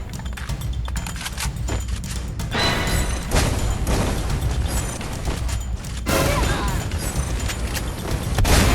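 M4 rifle fire in a video game, heard as rapid bursts of loud, crackling automatic shots in several volleys with short pauses between them.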